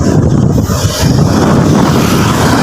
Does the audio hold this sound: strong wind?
yes